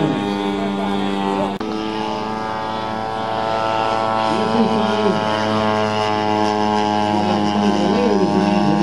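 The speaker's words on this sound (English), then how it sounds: "There's that Skyraider. Looks good, sounds good." Douglas A-1 Skyraider propeller aircraft passing at an air show, a loud sustained drone with steady engine harmonics that shift in pitch as the plane goes by, with a commentator talking over it.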